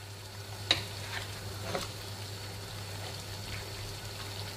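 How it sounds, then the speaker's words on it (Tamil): Jaffna style mutton curry being stirred in a pot, soft scraping strokes and a faint bubbling simmer, quiet and close with no voices. "நல்லா இருக்கா கிளறி விடுங்க."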